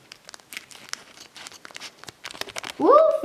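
Scissors snip through the plastic shrink wrap of a Pokémon card display box, giving a run of crisp crinkling and tearing crackles, followed by a sudden high exclamation from a voice.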